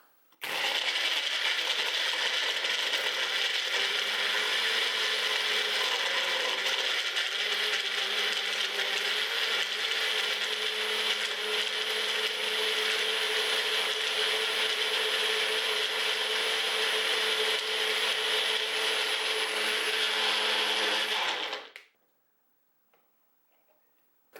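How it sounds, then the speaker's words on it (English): A Magic Bullet blender crushes ice in one loud, continuous whirring run with rattling chunks, lasting about twenty seconds before stopping abruptly into near silence. "I'm going to let it blend automatically."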